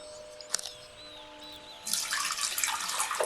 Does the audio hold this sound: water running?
yes